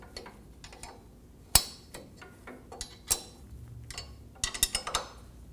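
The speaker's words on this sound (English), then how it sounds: "Install the bracket and the bolt. Snug the bolt down." A bolt is snugged down on a rear lower control arm bracket of a 2019-2025 Ram 2500 pickup. Sharp metallic ticks and clicks come close and irregular, bunching into quick bursts toward the end.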